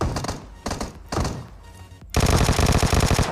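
Gunfire rings out in a PUBG Mobile solo-versus-squad match, first a few separate heavy shots with gaps between them, then a loud sustained burst of rapid automatic fire close to the listener.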